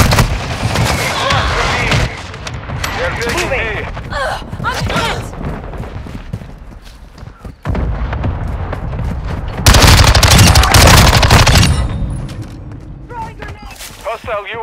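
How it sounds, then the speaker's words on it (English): Dense gunfire and booming blasts fill a Call of Duty: Modern Warfare II Control match. Loud bursts and thuds overlap with radio-style voice callouts throughout. "Taking effective fire!"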